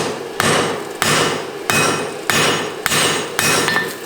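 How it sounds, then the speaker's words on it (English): Hammer blows on hot steel while forging a pair of bolt tongs with the flat face of the hammer, six loud, evenly spaced strikes each followed by a ringing decay, close up with no talk. "use the flat side of my hammer"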